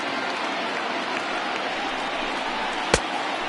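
A crowd of about 34,000 baseball fans in a stadium in a Brewers at Phillies game cheers and claps with a steady dense roar, a single sharp crack near the end, no talk.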